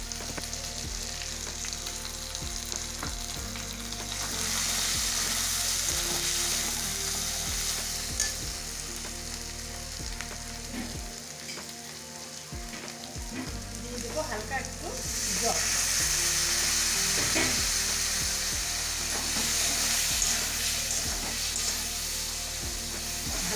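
Ground cumin, coriander and chili spice masala sautéed in a pan for a Bengali mutton and potato curry, a loud continuous sizzle and frying hiss with repeated stirring scrapes, swelling and easing over time.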